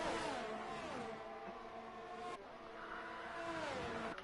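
Racing game cars, a Ferrari following an Alfa Romeo at Silverstone, whine past with rising and falling engine tones and gear shifts, a high revving sound that drops and climbs again, fairly faint and with no talk.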